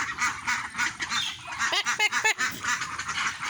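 Several ducks quack in a noisy flock, with a few louder nasal calls standing out near the middle over a constant background of hissy chatter.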